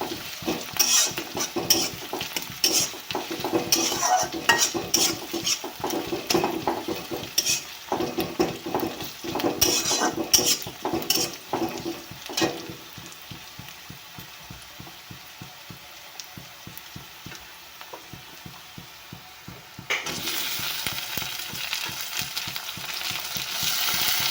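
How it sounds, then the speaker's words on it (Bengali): Black cumin and bay leaves frying in a pan for a Bengali spinach curry, a continuous sizzle punctuated by rhythmic scraping strokes of stirring, quieter in the middle before the hiss swells again. "তাই তো এখন আমি ভালো করে সব কিছু ভাজা করে নিচ্ছি"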